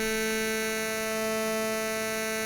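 Arturia Pigments wavetable synth with ring modulation applied, a sustained, static buzzing tone with dense, bright inharmonic overtones held unchanged throughout.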